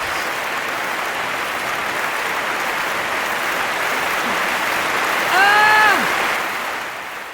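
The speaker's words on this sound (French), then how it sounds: "Tonnerre d'applaudissements." Recorded applause plays loudly as a steady crackling wash through a French chat quiz stream, rising briefly with a short whistle-like squeal near the end, no voices.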